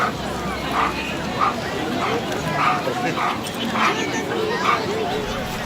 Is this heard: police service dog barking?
yes